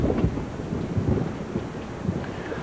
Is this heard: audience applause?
no